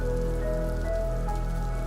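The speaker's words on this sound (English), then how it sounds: "you can hear the rain just clanking on the roof" Rain beats steadily on the roof of a Japanese hot spring bath, a dense, continuous patter and clank heard close and loud, with no one talking.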